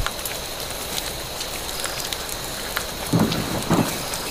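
Rain in the Vietnam War video game Vietcong: a steady, close hiss of rainfall pattering on surfaces throughout, with two low rumbling thuds near the end.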